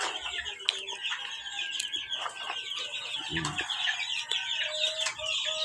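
Chickens and imported cockerels cluck and call steadily inside a barn, a dense chorus of overlapping bird voices with occasional louder squawks close by.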